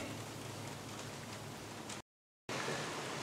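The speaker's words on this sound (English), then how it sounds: "So excuse the rain noise." Steady rain falls around an outdoor camp where a stainless steel woodgas stove burns, a dense continuous hiss broken by a short dropout before resuming.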